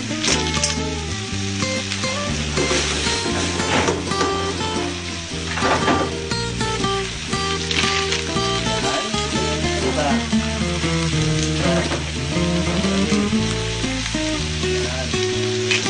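Mussels for tinolang tahong go into a hot pot with a loud, steady sizzle and some stirring. Voices and other sounds run underneath throughout.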